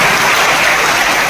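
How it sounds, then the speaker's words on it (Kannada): A large audience at a college gathering applauds in honour of the institution's founder, producing a dense, steady wash of clapping that stays even and loud throughout with no pauses. "ನೀವೆಲ್ಲ ದೊಡ್ಡ ಚಪ್ಪಾಳೆ ಕೊಡಬೇಕು."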